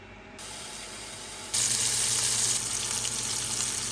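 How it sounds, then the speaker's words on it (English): Small-cut pieces of Conecuh sausage fry in a pan for Cajun red beans and rice, giving a steady close hiss and sizzle that grows louder partway through, with no talking. "Now we're gonna cook our Conecuh"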